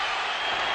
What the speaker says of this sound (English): here comes the crowd on their feet.